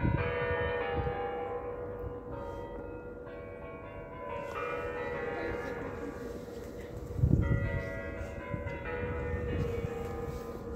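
A large church bell rings steadily with a rich, lingering hum and overlapping strikes, filling the whole stretch without any talk.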